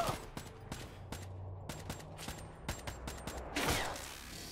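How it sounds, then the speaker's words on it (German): Sharp video game gunshots crack out one after another at irregular intervals, fairly close, followed by a louder burst near the end. "Ein Schuss."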